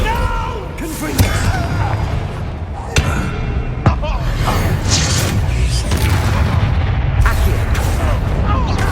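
Fiery blasts and crackling booms from the Confringo spell erupt during a Hogwarts Legacy battle and sit within a dense, continuous wash of loud game effects. A voice speaks over the action.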